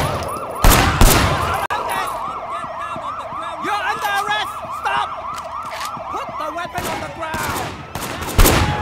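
Gunfire and sirens in the video game Sleeping Dogs, with several loud shots bursting over a wailing police siren that cycles steadily throughout, plus scattered impacts near the end.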